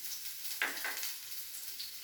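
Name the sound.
ginger and onion sizzling as they are fried in a pan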